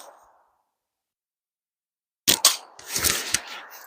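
Wasp Tomahawk slingshot fired outdoors in cold weather, giving two sharp snapping cracks close together, then a burst of clattering impact noise, after a near-silent pause.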